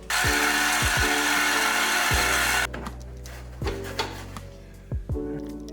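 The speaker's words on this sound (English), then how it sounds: "These bolts right here were so rusted you couldn't use an impact, so we just cut through there and now it's loose enough." A reciprocating saw cutting through rusted exhaust bolts on an Audi S3 makes a loud, continuous buzzing rasp that stops abruptly, followed by scattered metallic knocks and thuds from the workpiece.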